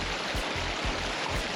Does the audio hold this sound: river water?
yes